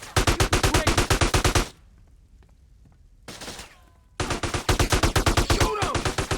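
Rapid automatic gunfire in GTA San Andreas, loud and close in two long bursts with a short lull between them and a brief shot in the middle.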